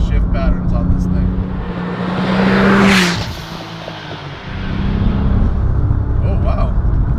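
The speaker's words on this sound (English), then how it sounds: "I like the blow-off noise though" A 760 WHP Porsche 997 Turbo Tiptronic tuned by Koncept Motorwurks accelerates hard, engine roar swelling then dropping with a sharp whooshing turbo blow-off hiss midway, loud and close in the cabin, with a voice talking.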